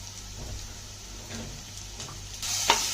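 Ginger garlic paste fries with chicken in a pan, giving a soft, steady sizzle under repeated scraping stirs and a brighter clatter near the end, close and fairly quiet.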